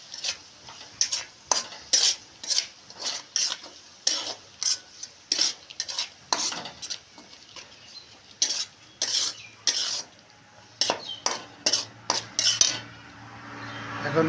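Chicken biryani masala frying in a large pot while a metal spoon stirs and scrapes it, giving repeated rhythmic clanks and scrapes over a soft sizzle for about fourteen seconds, close and clear, with no talking.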